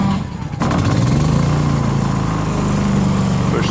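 Propane generator engine fired by its electric starter catches after a short crank and settles into a loud, steady close-range running drone.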